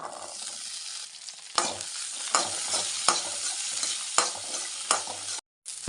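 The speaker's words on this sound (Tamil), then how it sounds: "சின்ன வெங்காயம் வந்து வதங்கிடுச்சு" Small shallots sauté in a pan for ivy gourd (kovakkai) chutney, giving a steady close sizzle broken by repeated scraping stirs at a fairly even rhythm, with no talking.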